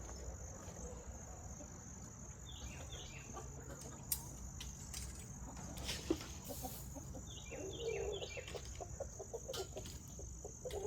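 Chickens cluck faintly in short scattered bursts over a steady background of insect chirping, with occasional distant bird calls.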